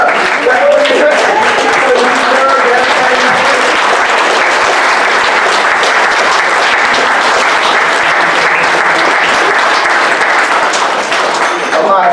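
Graduates at a 2021 graduation ceremony in Alabama stand and applaud themselves, producing dense, loud, sustained clapping that fills the space evenly from start to finish.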